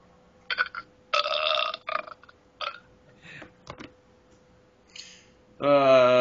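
A series of short, gurgling burps of varying length, ending in a long, loud, strongly voiced belch.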